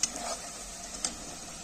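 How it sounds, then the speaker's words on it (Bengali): Chopped onions frying in oil in a pan for a home-style chicken curry, a soft steady sizzle with a couple of brief scraping stirs, close and quiet, no talking. "এবার আমার পেঁয়াজ গুলো ভালো করে ভেজে নিয়েছি।"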